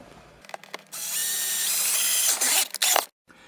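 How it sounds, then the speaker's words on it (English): A power drill whirs steadily for about two seconds, boring through a plastic trim cover in a GM truck, then stops with a few short bursts before silence. "So we're just going to go ahead and drill."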